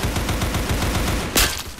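Rapid automatic gunfire in the Roblox shooter Counter Blox, a fast steady stream of close shots followed by one louder burst near the end.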